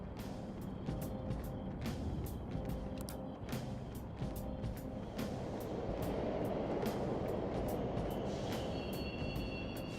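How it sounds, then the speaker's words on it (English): Subway trains in Persona 5 Royal running through an underground station, a continuous mechanical rumble with rhythmic rail clicks and a rising roar of a passing train, heard alone without voices. "The trains are totally running."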